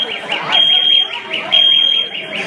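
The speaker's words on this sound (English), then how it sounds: "He set off a freaking fire alarm." A school fire alarm blares in repeated pulses of a high electronic tone, loud and close, with excited voices talking over it.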